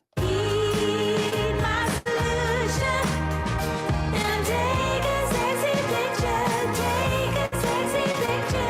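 Song by Irish artist plays loud and steady throughout, a full band mix with no talking over it.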